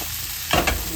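Squash and vegetables with salmon being stir-fried in a pan before coconut milk goes in: a constant oily sizzle, then two brief scraping stirs of the spatula near the end.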